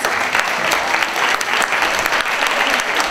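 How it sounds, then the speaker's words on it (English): Dense, sustained clapping from a large audience of families at a school event honoring 6th graders, steady and loud throughout. "All right, big round of applause for our 6th graders."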